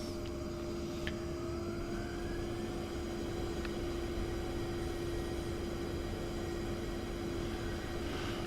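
A-10C attack jet taxiing in the DCS flight simulator, its engines holding a steady, even whine with a constant low rumble and no voices.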